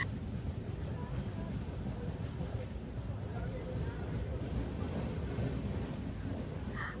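A passenger train running in Kerala, heard from inside a carriage, gives a continuous low rumble and clatter at moderate level, with a faint high whine from time to time.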